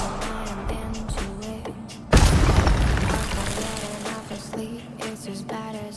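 An Incendio fire spell cast in a wizard video game bursts out as a loud sudden boom with a crackling roar that slowly fades, set against rhythmic background game music before and after.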